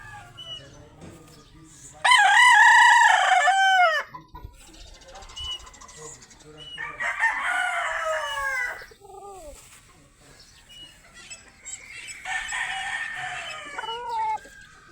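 Roosters crow at a game farm in Hindang, Leyte, with pens set apart. Three long, loud crows ring out close by, with fainter clucking and bird calls between them and some voices in the background.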